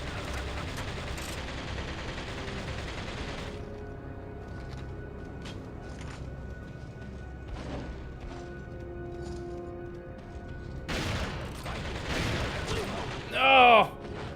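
Video game gunfire crackles in bursts over a steady background of game sound and music, with a sharper, louder crash near the end; a player talks over parts of it.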